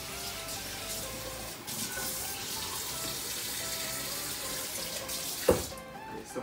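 Kitchen tap running water to fill a quarter-cup measure, a steady hissing splash that shifts slightly in tone, ending with a brief clunk near the close; no one speaks.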